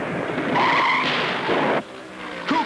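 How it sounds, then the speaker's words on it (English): At the 1978 Southern 500 NASCAR race, a stock car's tires squeal loudly in a skid, building to a sustained screech that cuts off abruptly, followed by quieter engine noise and a brief final squeal. "There's a slow car into the wall, high in the second turn."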